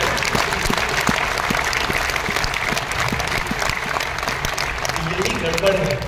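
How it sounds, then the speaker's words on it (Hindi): Audience at a talk or seminar clapping in a continuous, fairly loud round of applause, with sharp individual claps standing out and crowd noise underneath. "आपके लिए ताली बजा सकते हैं"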